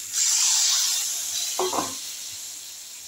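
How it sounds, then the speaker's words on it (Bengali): Water poured into a hot pan of frying soybean chunks and pointed gourd curry sets off a loud burst of sizzling hiss that slowly fades, with a brief stir or splash midway. "আমি এখন এর মধ্যে জল দিয়ে দিই।"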